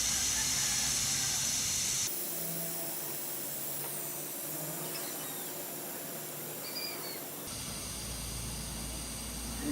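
Air hissing steadily out of a dry-rotted lawn tractor tire, a continuous broadband hiss heard close up, with the tone shifting midway as the leak changes.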